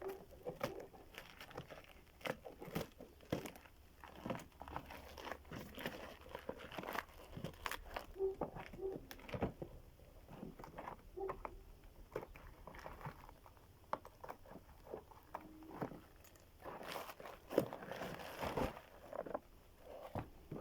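Packaging of an Atlas angle grinder is handled and opened up close, with irregular soft crinkles, rustles and taps throughout and light, faint room noise beneath.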